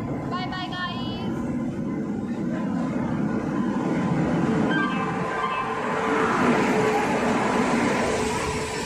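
A passenger train pulls into a railway station, its steady rumble and rail noise filling the scene at moderate loudness, with people talking nearby over the sound.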